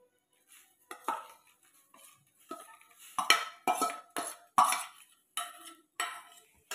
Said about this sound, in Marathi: आता टाकू आपण साबुदाण्याला या दुधामध्ये.